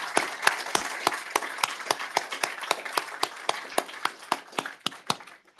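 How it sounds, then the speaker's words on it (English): A small audience claps after a talk, a thin scattering of distinct, separate hand claps in a loose, uneven rhythm, fairly close and moderately loud, with no talk on top. "A big round of applause for Linda."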